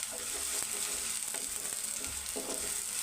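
Sliced onions frying in hot oil in a pan for a tender cluster bean curry, giving a steady close sizzle with occasional stirring clicks and scrapes, and no voices.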